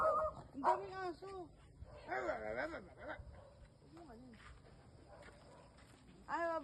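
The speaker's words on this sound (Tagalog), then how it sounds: "Ang daming aso." Several dogs bark, yip and whimper close by, rising and falling in short bursts, with people talking over and between them.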